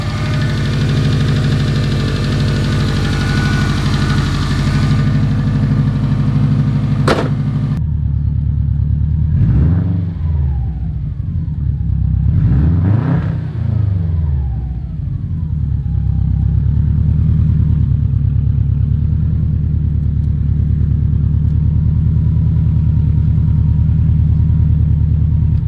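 A silver 2000 Subaru Impreza WRX GC8 engine runs steadily with a loud, close rumble, with a couple of brief revs rising and falling in the middle and no talking.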